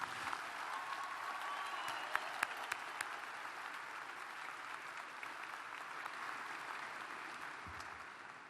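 A crowd applauds steadily at moderate volume at a university commencement ceremony, with a few sharper individual claps standing out early on.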